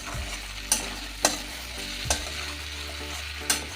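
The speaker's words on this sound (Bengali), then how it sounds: "সিদ্ধ করে রেখেছি আলু, এই আলুটা এটাও একটু ভেজে নেব" A spatula knocks and scrapes in a pan where boiled potatoes fry with tomato and turmeric, with a few sharp stirring taps over a low, quiet sizzle and no talk.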